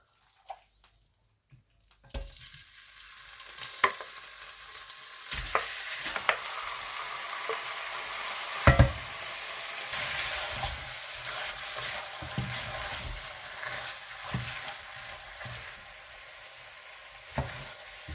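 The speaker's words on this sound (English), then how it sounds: "We'll wait for the sesame oil to get nice and hot. Then we add our marinated pork." Marinated pork dropped into hot sesame oil for a pork and peanut curry: quiet at first, then a sudden burst of sizzling that keeps crackling steadily, with scattered clanks and scrapes of stirring close by.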